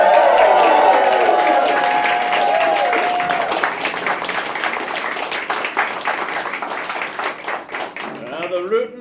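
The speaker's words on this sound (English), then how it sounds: "Can you please make a big noise and a round of applause for Abby Howells as Hank Fresh?" A show audience claps and cheers loudly for a cast member's entrance, with a whoop and music-like tones at the start, then energetic dense clapping that gradually thins.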